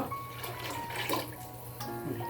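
Water poured into a fish curry in the pan, a soft steady splashing and trickle with a faint bubbling underneath, close but quiet and lasting a couple of seconds.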